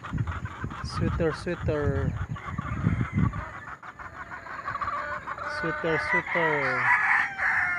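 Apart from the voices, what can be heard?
chickens clucking and rooster crowing in backyard farm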